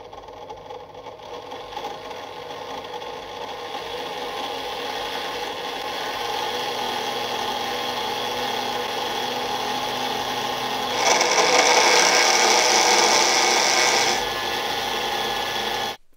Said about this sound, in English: I have now temporarily clamped the drill into one of my vices, and I have connected the motor directly to the isolation transformer for a first test